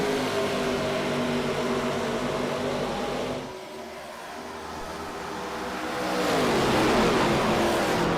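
Race cars in an ARCA series video game at Michigan International Speedway, engines droning loudly in a tight pack, dipping briefly before surging back as they accelerate under green.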